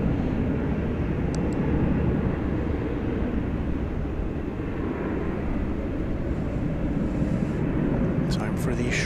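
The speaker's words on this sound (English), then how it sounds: "Incoming now, Delta Flight 2796 from Salt Lake City. Airbus A220." A Delta Airbus A220 arriving at DFW Airport at night gives a steady, broad roar of jet noise that holds at a constant level throughout, with a faint voice present.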